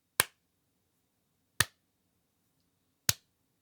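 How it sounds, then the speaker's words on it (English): Three single sharp hand claps, evenly spaced about 1.5 seconds apart, each cutting off almost instantly with no echo in a small room deadened by acoustic panels. "So if I clap my hands"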